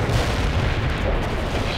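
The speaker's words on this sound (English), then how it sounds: "Light artillery barrage. Fire at coordinates." Light artillery barrage in the real-time strategy game World in Conflict, a dense continuous rumble of distant shell impacts and booms, loud and unbroken throughout, with no distinct single shots standing out.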